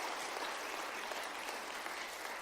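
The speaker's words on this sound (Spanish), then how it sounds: "Den un fuerte aplauso ya que lo está haciendo" A church congregation applauds during an evening sermon, a faint, distant, continuous rush of many hands clapping with no voices over it.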